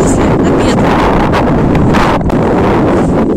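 Strong wind roars continuously across the microphone, loud and buffeting, with occasional gusty surges and no other clear sounds.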